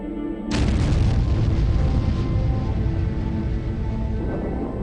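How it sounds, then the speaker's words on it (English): A massive explosion rocks the Siberian wilderness at a 1982 gas pipeline: one sudden, very loud deep boom that rolls on into a long, rumbling decay, with no voices. "NORAD detects a massive explosion that rocks the Siberian wilderness"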